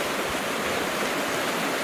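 The Tulata river runs high in spring flood with snowmelt, a loud, close, continuous rushing roar of water with no voices.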